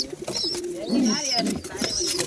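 Pigeons coo in low throaty rolling calls at a pigeon farm, close and fairly loud, with a higher chirp now and then.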